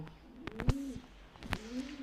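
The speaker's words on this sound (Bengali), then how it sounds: "এখানে যে কবুতরকে দেখতে পাচ্ছেন" A pigeon coos softly twice in slow, rolling calls, close by at a pigeon farm, with faint background noise.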